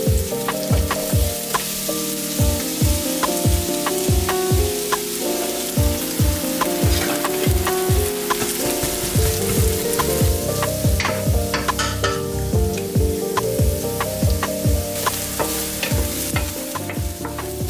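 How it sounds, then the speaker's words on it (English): Onions and garlic fry in olive oil over medium-high heat, a steady close sizzle with repeated sharp scrapes and taps of a utensil stirring the pan throughout, no voices. "I am heating up some olive oil to cook the onions and the garlic until"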